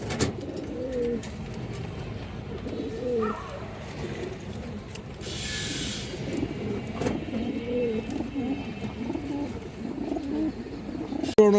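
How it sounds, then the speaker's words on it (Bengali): Domestic pigeons coo in low, repeated rolling murmurs throughout, several birds close by, with a brief hiss of background noise midway and a sharp knock at the end. "অনেক সুন্দর একটা কবুতর"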